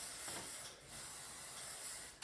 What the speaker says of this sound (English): take your hairspray and then spray the edges of your hair